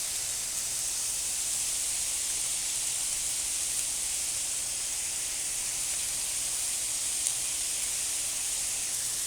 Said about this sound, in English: We're gonna let this grill on one side for a few minutes to get a nice color and caramelization of that steak